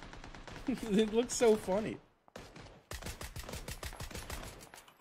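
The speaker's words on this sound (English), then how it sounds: "Someone's shooting at me." Bursts of gunfire in the video game PUBG crackle as rapid repeated shots in the second half, with a player talking and laughing over the earlier part.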